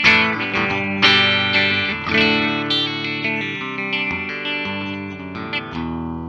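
A 1957 Gibson Les Paul Custom three-pickup electric guitar with a Bigsby is played on its middle pickup through effects. Loud, close chords and single notes ring in a shimmering chorus-like wash with sustained decays, and no voice is heard.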